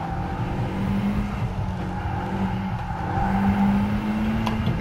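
A race car engine in the GT Sport video game on the Nordschleife drones steadily at fairly constant revs, a buzzing hum with slight pitch shifts and faint tyre noise, no talk.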